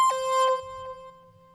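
Synth notes from FL Studio with portamento, a sustained tone stepping into a new pitch with a smooth glide, a few short phrased notes that ring out and fade, clean and close with no talk.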